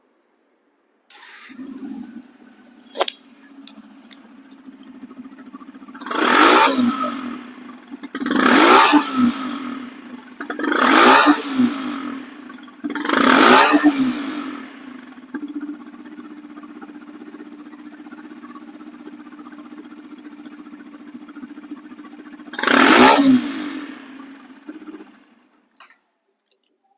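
A Yamaha FZ motorcycle in showroom condition, about 1,600 km old, starts up close by and settles into a steady idle, then is revved hard four times in quick succession and once more near the end before cutting off.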